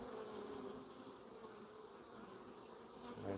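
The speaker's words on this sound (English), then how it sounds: "I see a male bee." Honey bees swarm and buzz in an opened beehive, a steady, dense drone that stays close and fairly loud throughout with no pauses.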